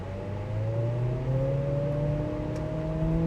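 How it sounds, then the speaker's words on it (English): 2025 Acura ADX engine accelerating uphill from a standstill through its CVT transmission, a steady, continuous rising drone with smoothly climbing tones and no gear shifts, heard from inside the car. "you can definitely hear that engine working, and you can hear that CVT transmission"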